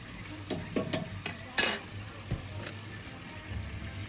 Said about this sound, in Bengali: প্রথম পাঁপড়টা দিয়ে দেখি বা তেল মোটামুটি গরম হয়ে এসছে